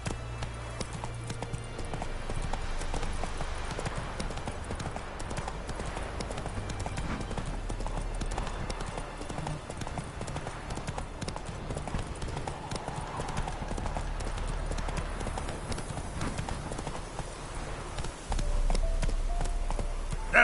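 Hooves of Roach, a horse in The Witcher 3: Wild Hunt, clip-clop in a fast, steady galloping rhythm throughout, with occasional soft voice beneath.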